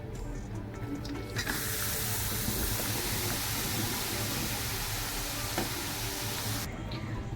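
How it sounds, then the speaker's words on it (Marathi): Grated carrot sautéing in ghee in a pan for gajar halwa, a loud, dense hiss that starts abruptly, holds steadily for several seconds with faint stirring underneath, then cuts off. "हा गाजराचा किस पण छान असा परतून घ्यायचा आहे तुपामध्ये"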